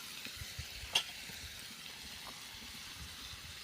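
Curry leaves dropped into softened tomato masala on a wood-fired stove give a faint, steady frying sizzle with one brief sharper crackle near the start, close but quiet.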